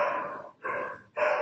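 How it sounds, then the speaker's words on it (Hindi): A dog barks in three long, loud, close bursts separated by short pauses, heard alone in an early-morning garden. "कुत्ता"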